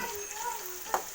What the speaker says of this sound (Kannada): ಈರುಳ್ಳಿ ಫ್ರೈ ಆಗುವಾಗ ಸ್ವಲ್ಪ ಶುಂಠಿ ಬೆಳ್ಳುಳ್ಳಿ ಪೇಸ್ಟ್ ಹಾಕ್ಕೋತೀನಿ.